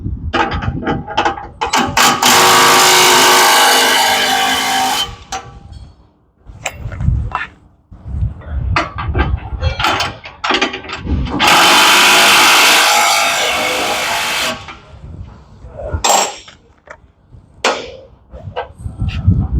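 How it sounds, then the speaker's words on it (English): Bash plate bolts on a Delica L300 tightened with a 19 mm wrench and socket, giving loud bursts of ratcheting and clanking metal in several separate spells with brief quiet gaps between them. "Then I'll tighten up the ones we just installed."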